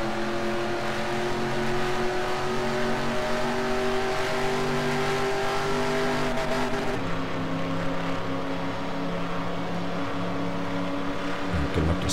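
NASCAR Racing 2003 stock car in a video game, accelerating on the backstretch at Daytona: a steady, loud engine drone with rising tonal whine, dipping briefly as a gear changes midway, then climbing again, continuous and close, with no talk.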